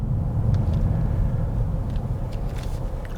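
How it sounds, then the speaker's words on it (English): Road traffic with cars rolls past in a continuous low rumble, a dense steady wash of engine and tyre noise with no voices. "Look at this traffic."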